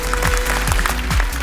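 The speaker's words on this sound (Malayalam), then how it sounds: "പാട്ട് കേൾക്കാൻ ആഗ്രഹമുള്ള ആൾക്കൊന്ന് കൈയടിച്ചേ" Television show audience clapping in a studio, a steady dense patter of many hands applauding together at moderate loudness, with some brief background voice underneath.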